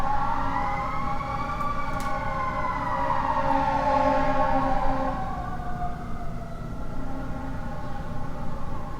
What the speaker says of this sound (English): If you hear this, like the sirens or the very alarming noise outdoors